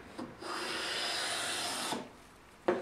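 A hand plane fitted with an HSS blade takes a smoothing cut along a wooden board, one continuous close rasping stroke lasting over a second, followed by a brief knock as the stroke ends.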